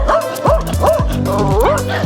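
Dogs bark and yip nearby in quick, excited bursts, with some whimpering mixed in. The sounds are loud, close and overlapping.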